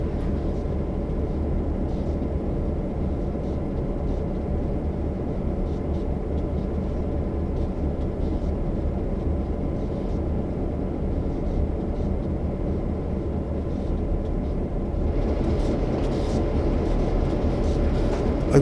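A locomotive in Train Sim World 3 pulling away under light throttle: a steady, loud, low diesel drone with rail rumble throughout, swelling slightly near the end, with no talk.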